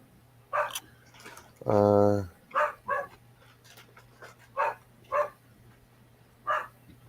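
A single loud dog bark sounds over a constant low mains hum, with a person's speech in short bursts before and after it during a home live stream.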